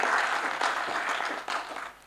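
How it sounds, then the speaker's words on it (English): Audience at a university nursing and midwifery national quiz gives a short, full round of applause, dense clapping that tapers off toward the end. "It deserves a big round of applause"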